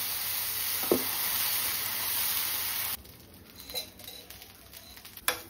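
Masala dosa batter sizzling on a hot pan, a steady hiss for about three seconds that abruptly drops to a quieter crackle with a few small pops and spatters.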